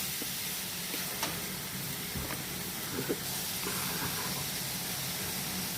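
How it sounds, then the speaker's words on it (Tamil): Chopped ingredients for palak lasooni sautéing in a pan, a soft continuous sizzle and hiss with occasional faint clicks of a spoon against the pan, quiet and close, with no talking. "அதை போட்டு நல்லா நல்லா வதக்கி வேக விடலாம்"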